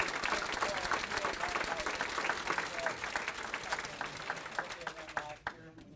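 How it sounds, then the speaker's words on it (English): Audience applause fills a hall at a city volunteer appreciation celebration, steady dense clapping from a crowd that carries on for several seconds, then fades and cuts off near the end. "let's give a round of applause for all 6 of these"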